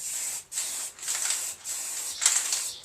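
Aerosol spray paint hisses onto a Harley 883 Iron belly pan in a garage, five short bursts with brief pauses between passes, close and steady, no talking.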